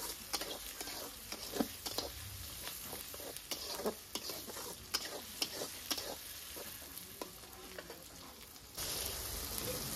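Tomatoes fry and sizzle in a pan for Kashmiri aloo dum, with a steady bed of sizzling and repeated scraping stirs at an irregular rhythm. The sizzle grows louder near the end. Nobody speaks.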